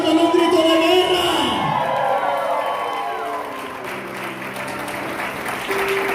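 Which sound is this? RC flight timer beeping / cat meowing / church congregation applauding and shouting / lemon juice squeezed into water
church congregation applauding and shouting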